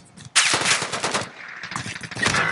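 Rapid automatic gunfire in Call of Duty Warzone crackles in a dense, loud burst that thins out, then picks up again in scattered volleys.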